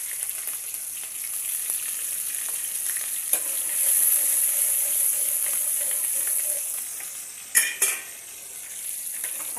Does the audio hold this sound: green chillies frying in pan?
yes